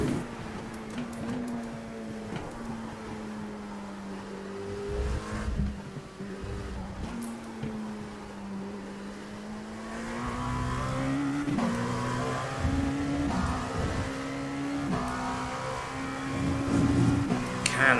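Dallara P217 LMP2 race car engine in iRacing, a loud buzzing howl rising and falling through gear changes as the car accelerates, with a brief tyre squeal, and someone talking faintly underneath.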